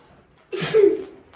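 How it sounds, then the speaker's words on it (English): A single sneeze, a short breathy intake followed by a sharp voiced burst, close and fairly loud, apparently performed by a voice at a Christmas show. "And all of a sudden, Santa gave a great sneeze."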